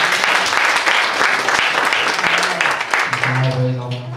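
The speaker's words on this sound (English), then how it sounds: "Y'all give him a hand clap of praise" Church congregation giving a hand clap of praise for a visiting pastor, a loud, close burst of many hands clapping at once that tapers near the end as a voice begins to speak over it.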